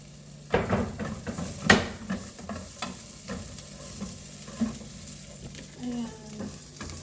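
Ginger, onion and garlic sautéing in a pan for sinigang, a steady close sizzle with scattered stirring scrapes and clinks of a utensil against the pan.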